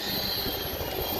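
Train at Paris Gare du Nord on the LGV Nord line, a steady dense rumble with a faint high whine held throughout, heard close and fairly loud.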